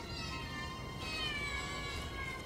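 A long, drawn-out cat meow with a rising, wavering tone plays over a steady noisy background, loud and sustained.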